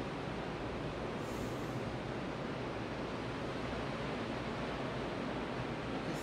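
Ocean waves breaking on the shore at sunrise in Daytona, a steady, dense wash of surf roaring continuously at a moderate level with no distinct individual breaks and no voices.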